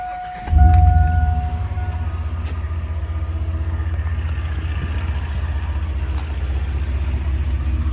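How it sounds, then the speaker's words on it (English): A 2002 GMC 2500HD truck with a Flowmaster cat-back exhaust starts up, then settles into a steady, deep, loud idle rumble that runs close and alone through the rest of the clip. "So I'll go ahead and start the engine and see how it sounds from there."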